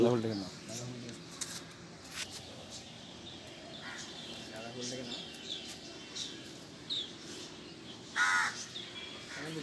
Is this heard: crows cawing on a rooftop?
yes